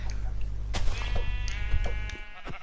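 Sheep in the game Minecraft bleat in a short wavering cry, close and clear over a low steady hum, with a few clicky background taps around it.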